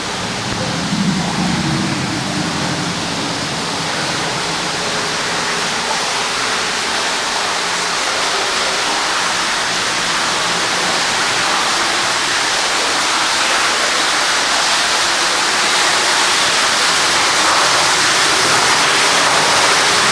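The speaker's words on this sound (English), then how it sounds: "here in the middle of the tunnel, there's kind of this waterfall." A waterfall pours inside a glacial tunnel, a steady, loud broadband rush of falling water that fills the space evenly from start to finish with no voices over it.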